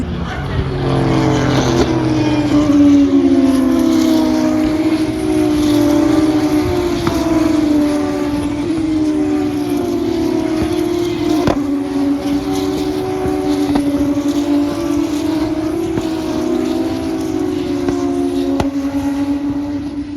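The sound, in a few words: Formula 2 race cars passing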